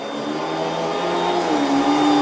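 A child runs a vacuum cleaner indoors, producing a steady, loud whirring drone with a tonal whine that shifts slightly in pitch partway through. No talking.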